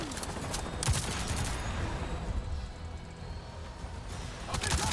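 Sustained bursts of gunfire and fusillade in Avatar Frontiers of Pandora gameplay, dense and continuous across the moment with heavier volleys near the start and end.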